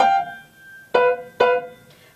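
A piano plays a short Blue Danube phrase: a held note fades, then two crisp, close notes strike in quick succession, followed by a faint fourth note, with no voices.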